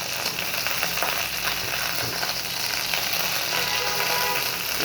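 Fish sizzles and crackles steadily in a hot frying pan, a continuous close frying hiss with no talking.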